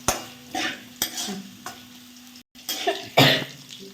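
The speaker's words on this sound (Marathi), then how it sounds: "तुम्ही बघू शकता बटाटा छान शॅलो फ्राय झालेला आहे" Potato shallow frying in a pan, with scattered stirring scrapes and short bursts of sizzle against a quiet background.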